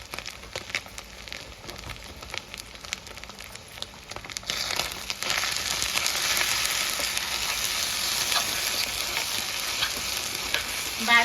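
Bheja fry (brain fry) being stirred in a pan, soft scraping and crinkling of stirring at first, then a steady, louder hiss of sizzling oil that carries on to the end with no talking.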